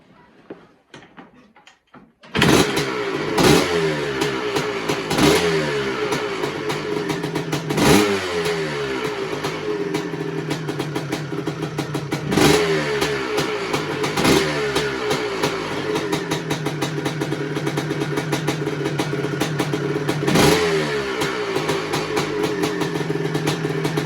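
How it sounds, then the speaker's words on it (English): A 1984 Honda CR250 motorcycle engine starts up after a brief quiet moment, then idles loudly and close by with repeated sharp throttle blips that rise and fall every few seconds. "I was just about to give it a bit of a rev then"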